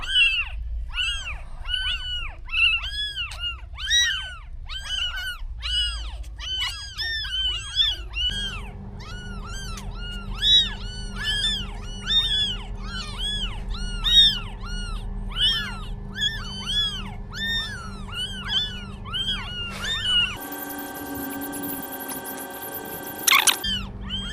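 Newborn kittens mew constantly in thin, high, overlapping cries, close and loud, with a low hum joining partway through and a brief burst of noise near the end.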